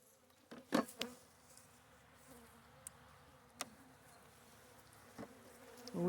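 Honey bees buzzing faintly nearby during a spring hive inspection, a soft drone with a few louder passes and brief clicks, no talking.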